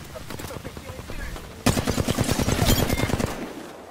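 Apex Legends gunfire comes in a sparse burst of shots, then a loud, rapid automatic volley of about a second and a half that stops abruptly, mixed with faint game voice callouts.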